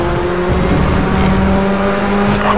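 A Formula Junior race car in RaceRoom at the Hungaroring drones steadily, its engine note holding a high, constant pitch that stays loud and close for the whole stretch, with no voices over it.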